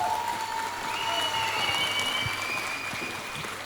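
An audience applauds to welcome Georgia Hirst at a game show conference, a dense, steady wash of clapping from a crowd that fills the hall without pause.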